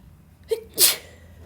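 A single sneeze, a short sharp burst preceded by a quick intake, close and loud in a quiet classroom setting.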